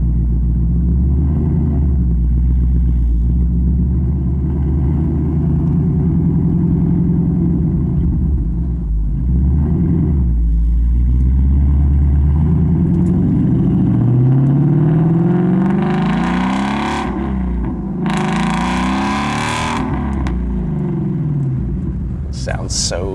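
A deep 2016 Shelby GT350R Mustang engine in track mode rumbles and revs, pitch rising and falling loudly, with sharp pops near the end and a voice talking over it.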